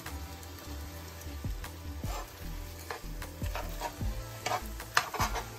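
Scrambled eggs sizzle softly in a pan while a utensil stirs and scrapes them, giving faint, close, irregular thumps and clicks over a low frying hiss.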